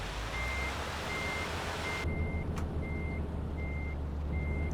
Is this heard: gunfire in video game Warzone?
no